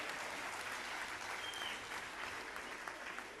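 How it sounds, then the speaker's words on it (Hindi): An audience claps at a kavi sammelan poetry gathering, a sustained, even burst of applause from a crowd heard at a moderate distance. "तो सारे मिलकर तालियां बजाते रहना।"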